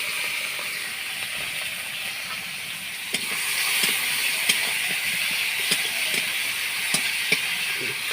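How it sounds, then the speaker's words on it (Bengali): Prawns coated in salt and turmeric frying in oil over a wood fire, a steady bright hissing sizzle that grows slightly louder midway, with faint crackles and clicks. "আগে চিংড়িটা তেলের উপর নুন হলুদ মাখিয়ে ভেজে নিচ্ছি।"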